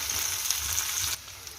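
Mushroom paste fries in a wok with a close, bright, steady sizzle, and stirring scrapes come through before the hiss suddenly drops to a quieter simmer.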